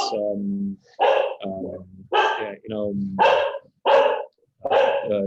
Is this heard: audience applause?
no